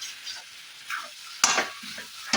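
Beef fat (khasir charbi) frying and being stirred with spices for Bengali ghugni, giving a broad sizzle with bursts of scraping and hissing, near and fairly loud, with no talk.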